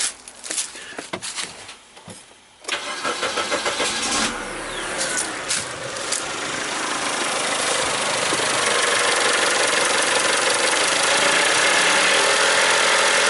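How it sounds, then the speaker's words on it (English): A 2003 Mazda Protege with a misfire at idle cranks and restarts after stalling, with sharp mechanical clicks and stutters before settling into a steady, loud, close-up idle that hums on for several seconds. "just off of idle, it seems to be running fairly smooth"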